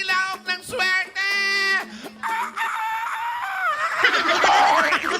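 A person imitates a rooster's crow, a series of loud, nasal, strained calls that rise and break, followed by laughter and excited chatter from others nearby on a lively TV street segment.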